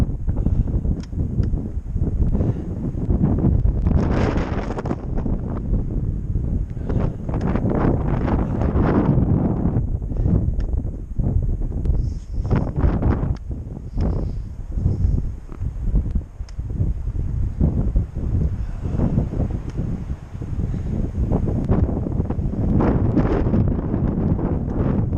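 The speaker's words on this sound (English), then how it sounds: "Now it's getting foggy, and the wind keeps getting stronger." Strong gusty wind buffets the microphone on an icy, foggy stretch of Tehachapi Mountain during a stormy hike, a continuous loud roar with rustling surges throughout.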